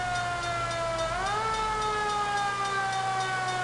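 A wailing emergency siren from a fire truck in the video game L.A. Noire, with steady harmonic tones that hold, then sweep upward and settle at a higher pitch, loud and continuous throughout.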